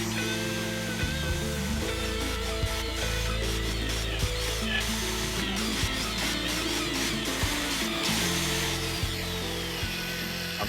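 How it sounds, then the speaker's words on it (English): A magnetic-base drill bores through metal with a large hole-saw-style cutter during a deck hatch rebuild, producing a loud, continuous grinding drone with shifting pitch and scraping, rubbing texture for the whole stretch, with no voices. "this is what a mag drill does. So basically it's like a big hole saw"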